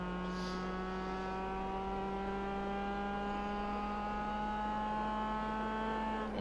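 A race car engine accelerates under throttle on a racing circuit, a steady rising drone with clear harmonic tones that climb slowly in pitch, loud and continuous with no speech.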